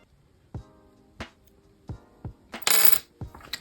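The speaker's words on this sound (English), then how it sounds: "let's open the SIM card tray and" A SIM card and its hybrid tray are handled on a Samsung Galaxy A33 5G phone, giving a few sharp, small metallic clicks and then a brief rattling scrape, close and otherwise quiet.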